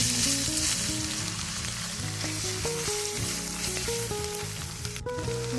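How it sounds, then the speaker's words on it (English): Tomato paste sizzles in hot grease as it is stirred for Cajun dirty rice, a loud, steady frying hiss throughout with light stirring scrapes, over background music. "So now I'm going to add in my tomato paste. I'm going to go ahead and mix that until it's well combined."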